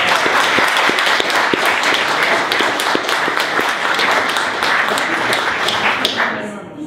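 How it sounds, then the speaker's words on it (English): A round of applause for Chattanooga City Council and mayoral candidates, loud, dense clapping from a room full of people with sharp individual claps standing out, fading near the end. "So let's give them a round of applause."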